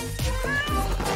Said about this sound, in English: It's a cute little kitten who lives in a tree.